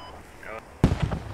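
Gunfire in the military shooter game Squad: a sharp loud burst of two or three close shots arrives near the end, after a stretch of quiet background ambience.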